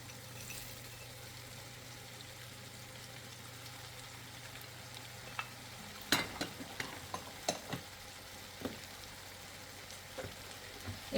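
Green peas stirred and cooked in a pan for Singaporean fried rice, a soft, low sizzle followed by scattered scraping clicks and light clatters from stirring.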